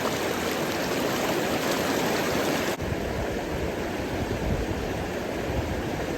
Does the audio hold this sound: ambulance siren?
no